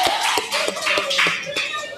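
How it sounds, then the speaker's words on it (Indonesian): A small classroom group of students claps in a short, brisk burst of close hand claps lasting about two seconds, with no talking over it. "Tepuk tangan dulu ya."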